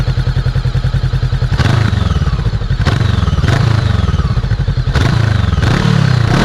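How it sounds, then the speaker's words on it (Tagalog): An FKM Expres 500 SC motorcycle engine runs loud and close with a throbbing idle, revved in several sharp blips that rise and fall. "i-sound check natin itong ating Express 500 SC"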